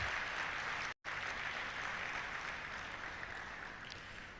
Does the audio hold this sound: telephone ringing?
no